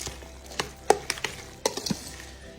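A spoon stirring freshly salted guacamole in a bowl, a run of wet, sticky clicks and soft squelches in an uneven rhythm, close and fairly clear with no talking over it.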